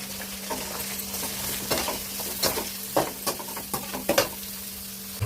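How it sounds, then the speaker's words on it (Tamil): Onions sautéing in a pan, a steady close sizzle broken by repeated scraping and stirring clicks, with a low constant hum underneath and no talk. "வெங்காயம் நல்லா வதங்கிடுச்சு."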